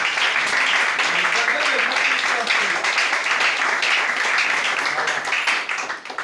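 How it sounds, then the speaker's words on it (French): Audience applause for a boy at a church ceremony, a dense, steady wash of clapping that holds at full strength for about six seconds before easing slightly at the end. "Acclamez déjà même pour lui."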